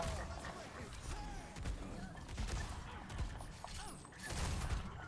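Rapid gunfire and weapon impacts from an Overwatch 2 match, a dense, continuous barrage of shots and thuds with a loud, busy game mix and some voices chattering underneath.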